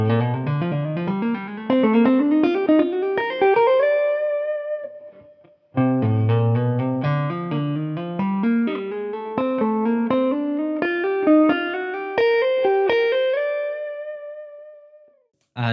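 Electric guitar playing a fluid legato lick in C Dorian, with rapid hammer-ons and a slide, ascending runs that ring out into sustained notes, clean and close, played twice with a brief gap and no talking.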